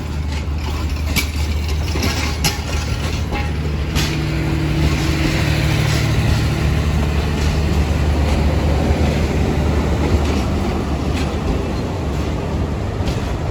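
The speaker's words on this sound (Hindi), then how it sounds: "ये था जी दोस्तों 103 अब सुबह खराम रेल कार पर डिपार्चर" The Subak Kharam rail car pulls out of Lahore railway station with a loud, steady rumble and engine drone, low hums holding under a continuous rolling noise and a few sharp clanks.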